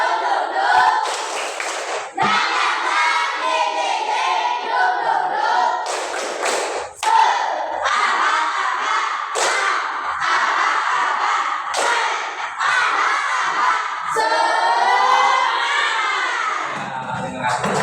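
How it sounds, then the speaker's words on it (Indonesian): A school class does rhythmic spirit clapping, sharp unison claps and thumps in a set pattern, with the whole group chanting loudly alongside the beats throughout. "Sekarang tepuk semangat."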